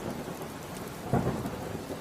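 Steady rain falling during a thunderstorm, a dense, even hiss with a soft low rumble of thunder rising briefly partway through.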